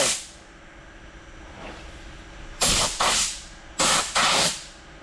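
Sharp hissing bursts of a spray gun applying coating during restoration of a 1967 Oldsmobile 442, two pairs of short blasts after a quiet stretch with a faint earlier spurt.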